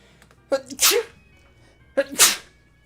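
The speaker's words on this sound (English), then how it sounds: "See if the audio came in enough so you can hear me sneezing." Two loud sneezes, each with a sharp intake of breath before the burst, close to the microphone with a pause between them.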